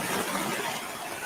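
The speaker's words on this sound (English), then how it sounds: "It is some heavy rain tonight." Heavy rain pours outside at night in a dense, steady hiss heard through an open window, fairly loud and unbroken, with no one speaking.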